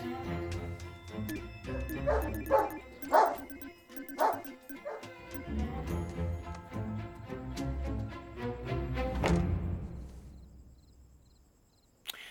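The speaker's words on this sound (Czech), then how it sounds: "Nemohl bys vydržet ještě 5 minut a trochu stlumit to štěkání?" A dog barks and yips repeatedly in a domestic scene, sharp close barks in an uneven burst mixed with whimpering over background music, fading out toward the end.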